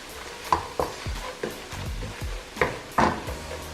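Turmeric, chili powder and curry powder frying in a pan over lowered heat: a loud sizzle with rhythmic scraping strokes of a stirring spoon, about eight close, quick stirs in a few seconds.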